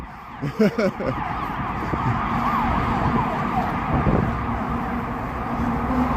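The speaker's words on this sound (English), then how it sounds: "there was a Chicago Fire ladder truck right there, just screaming through there" A Chicago Fire ladder truck screams past on a city street, its wailing siren rising and falling under steady traffic rumble, with a few loud horn blasts near the start.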